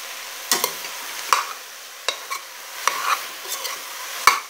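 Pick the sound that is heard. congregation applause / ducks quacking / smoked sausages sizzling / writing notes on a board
smoked sausages sizzling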